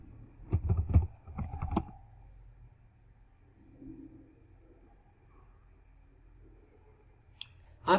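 Quick bursts of typing on a computer keyboard, a cluster of clicky keystrokes in the first two seconds, then near quiet with a single tap and a final click at the end.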